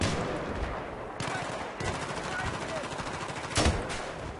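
Rapid gunfire from Battlefield 3 multiplayer combat crackles through the clip, with bursts of automatic fire and a louder, closer volley near the end, set against a dense, noisy game soundscape.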